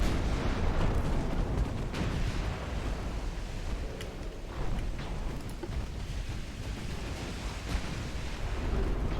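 Heavy warship main guns firing in a 1900-era British naval battle in Ultimate Admiral Dreadnoughts, a dense, continuous rumble of overlapping booms and blasts held at steady loudness throughout, with no speech.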